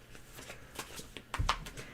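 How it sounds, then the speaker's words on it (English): A stiff tarot deck being shuffled by hand makes several quick papery riffles and soft taps, growing busier and louder toward the end, with no one talking. "this deck Gina. is hard to shuffle"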